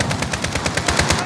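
Rapid automatic gunfire in Call of Duty Warzone rattles in a steady, loud burst of evenly spaced shots with no talking over it.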